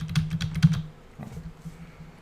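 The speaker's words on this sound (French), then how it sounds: "je vais taper le texte concernant le nouveau sujet." Keys clack on a computer keyboard in a quick close burst of several strokes, a pause, then a few softer taps.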